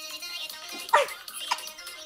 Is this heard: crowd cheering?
no